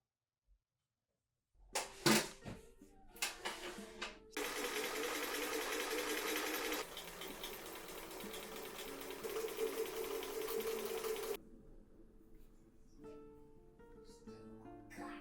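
A sewing machine runs in a long steady burst of stitching on the back panels of a hemp summer dress, preceded by a few short clicks and starts, then stops and leaves quieter handling noises.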